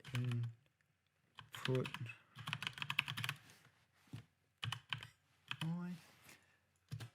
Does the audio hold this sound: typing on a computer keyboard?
yes